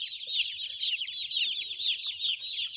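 Chickens huddled under a brooder on a cold morning cluck and chatter continuously in a dense, close chorus of overlapping calls.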